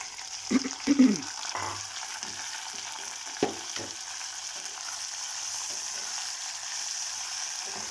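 Onion, tomato and green chillies sizzle in a pan, with a few sharp stirring knocks early on, then a steady, fairly quiet frying hiss that continues alone.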